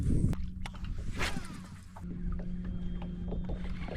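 A fishing boat's motor runs on a redfish pond, giving a steady low drone close by, with a few knocks and water sounds over it.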